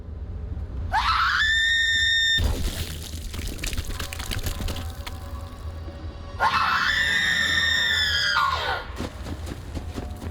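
Two long, high-pitched screams from Borderlands 3, each rising and holding for about two seconds, loud and close over a constant low game rumble, separated by a noisy stretch.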